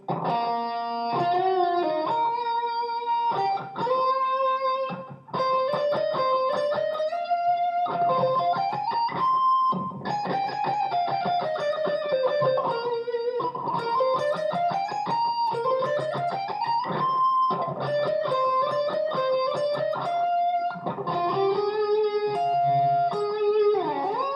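An effected electric guitar plays a guitar solo, with bends replaced by smooth slides, notes gliding up and down between phrases; no voices.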